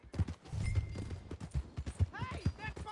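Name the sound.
horse hooves in video game Red Dead Redemption 2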